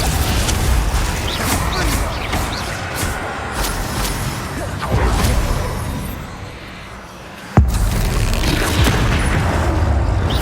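A Bombarda explosion spell and other combat in the video game Hogwarts Legacy: loud booming blasts and rumbling impacts, a lull midway, then a sharp sudden crack and renewed roar, with shouted incantations mixed in.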